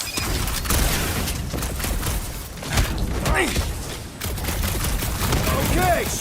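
In Guardians of the Galaxy, gunfire blasts at clamps in rapid bursts of shots and booming impacts, with mechanical clanks and whooshes mixed in, loud and close.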